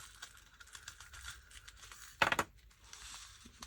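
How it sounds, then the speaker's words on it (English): A small homemade sequin mix tipped into a fabric shaker pocket, giving a brief, close crinkly rattle and patter of tiny sequins lasting about a quarter second amid light handling noise. "I've made a wee sequin mix to match, so I'm going to tip some of that"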